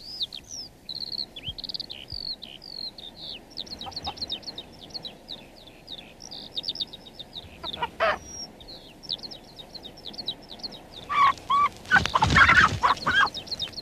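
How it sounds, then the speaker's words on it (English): Close, sharp hen clucks and chirps come in quick repeated bursts, with a louder rustling flurry toward the end. "a cheeky hen stealing his keys"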